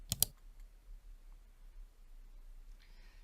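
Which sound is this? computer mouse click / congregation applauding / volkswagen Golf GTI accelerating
computer mouse click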